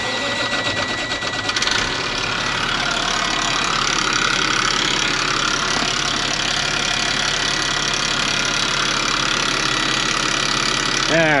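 A big riding lawn mower engine running steadily nearby, loud and continuous with a mechanical whine, and a brief change near the start as it catches.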